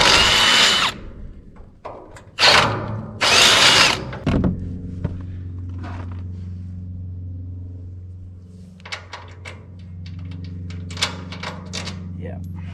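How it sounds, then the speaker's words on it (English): A power drill whirs in a few short, loud bursts while drilling holes in a steel RV frame out to 7/16 inch, then stops, leaving a low, steady engine rumble with faint clanks. "I gotta drill those out to 7/16, just like they are on the bump stops."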